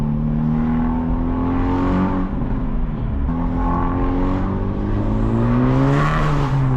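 A 2025 Honda Civic Type R FL5 fitted with a catless downpipe, engine running loud and close with a steady droning tone that rises and falls through light revs, rough burbling texture throughout, no voices.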